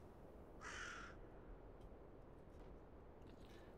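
Crows in S.T.A.L.K.E.R.: Call of Pripyat give one clear caw over a steady wash of ambient game noise, with fainter distant calls afterward.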